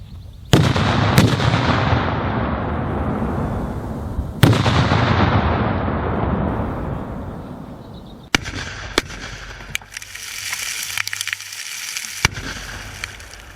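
TNT blocks are detonated during engineering training, with two heavy booming blasts that roll off slowly, followed by a series of sharper, quicker cracks and pops in the open air.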